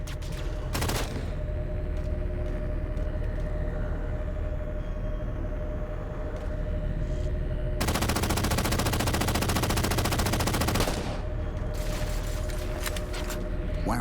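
Sustained automatic gunfire in the Halo 4 video game, dense rapid bursts near and loud, with an especially intense stretch of continuous fire in the middle over steady battle ambience and a droning hum.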